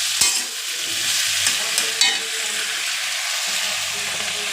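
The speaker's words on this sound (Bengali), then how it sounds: "এবার একটু নেড়ে নেব।" Taro (gathi kochu) being stirred as it cooks in a pan, steady sizzling and frying with a few sharp scraping strokes of a spatula near the start, close and continuous, no talking.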